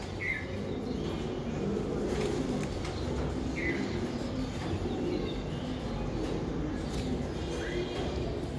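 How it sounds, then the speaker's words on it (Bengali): Jeera-necked pigeons coo in soft, repeated phrases against a constant background hum, with faint insect-like buzzing throughout. "এই দেখেন জিরা গলা কবুতর"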